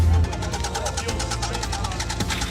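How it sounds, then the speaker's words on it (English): A car engine stalling and sputtering while people ride inside, heard up close as an uneven, knocking rumble with pulsing vibration under the cabin noise. "The car keeps stalling that we're riding in here."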